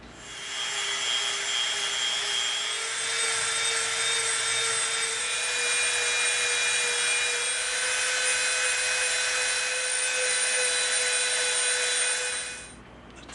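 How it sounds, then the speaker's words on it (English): A Dremel rotary tool whines steadily at a high pitch, grinding against EVA foam edges in one continuous pass before spinning down near the end. "Now what we're going to do is we're going to come in with our Dremel again, and we're going to soften"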